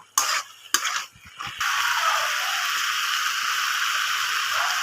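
Ridge gourd in poppy seed paste gets stirred in a pan, opening with a few short scraping strokes before a steady soft sizzle takes over and runs underneath to the end, with no voices present.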